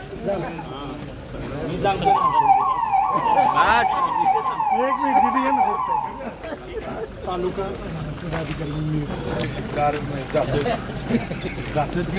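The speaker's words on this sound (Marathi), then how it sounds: "हो वाजवा की सायरन" A vehicle siren wails in a rising and falling pattern for several seconds, fairly close, at a protest, over engine rumble and background chatter before it fades.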